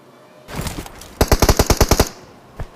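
Gunfire in the BGMI battle royale game: a first short burst, then a rapid string of about nine loud, sharp shots, and one more shot near the end. No voices are heard.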